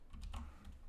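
Typing on a computer keyboard while working in Mathematica, a quick patter of soft close keystrokes with a slight pause in the middle, no one speaking.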